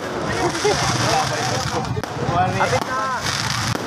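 New Year fireworks in Santo Tomas, Davao del Norte, crackling and popping continuously all around as a dense, loud wash, with people talking over it.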